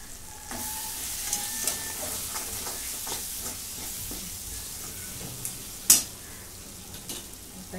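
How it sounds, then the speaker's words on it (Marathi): Spice masala for a green pea curry is roasted on low heat in a pan. A soft, steady sizzle is broken by occasional spatula scrapes and one sharper clink, close and fairly quiet. "हा मसाला सगळा भाजून घेऊ"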